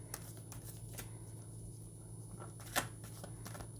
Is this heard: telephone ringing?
no